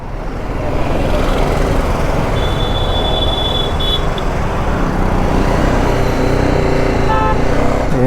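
A BMW G 310 GS motorcycle riding along with steady, loud engine and wind roar throughout, close and continuous with no break.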